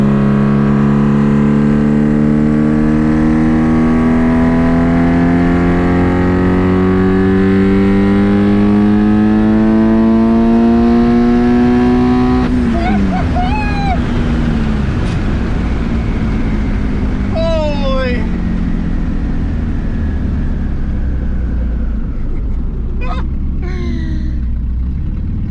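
A twin-turbo Subaru STi on wastegate boost pulls hard from about 3,000 rpm toward 7,500 rpm, its engine note climbing steeply through second, third and fourth gear with a drop at each shift and sharp turbo chatter and pops between pulls, loud and close.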